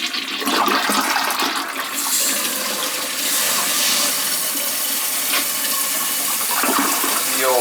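Double-flushing toilet with regular flappers, a loud, close whoosh of rushing water that swirls and drains over several seconds, then settles into refilling.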